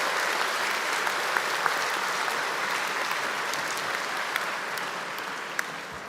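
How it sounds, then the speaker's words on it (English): At a secondary school graduation, a fairly distant audience applauds volunteers, steady soft clapping with a few sharper individual claps standing out, continuing evenly for several seconds. "if we could get a round of applause for all of our volunteers who did an amazing job"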